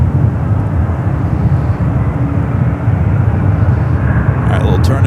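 A Boeing 767 turning and rolling toward runway 28 left at San Francisco airport, giving a steady, loud low jet roar with some wind noise, constant throughout and close to the microphone.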